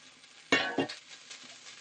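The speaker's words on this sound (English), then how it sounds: "So we've got some onions going in." Onions drop into a pan for frying with two quick clattering hits, then a faint, steady sizzle carries on quietly.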